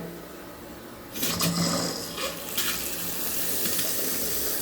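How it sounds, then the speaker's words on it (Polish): Water runs from a tap at a freshly reconnected bathroom washbasin during a plumbing job, a steady close hiss that starts suddenly after about a second and continues alone. "Woda leci."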